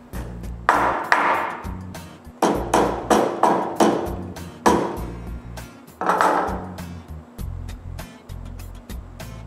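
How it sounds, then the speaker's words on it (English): A mallet taps a table saw's cast top into alignment with the blade: about a dozen sharp ringing metallic knocks at irregular intervals, close and loud, each fading quickly, with no talking. "Then with my mallet, I move the top until it's parallel with the blade."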